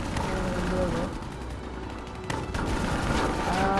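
Sustained automatic gunfire aimed at a VTOL aircraft in Call of Duty: Black Ops 3, dense crackling bursts running continuously with sharper shots near the middle and end, while players talk underneath.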